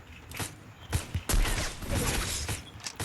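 Gunfire from a gun in the Free Fire battle-royale video game: a few sharp cracks followed by a longer burst of loud, broadband blasts, with no voices over it.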